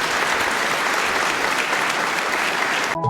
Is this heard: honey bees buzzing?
no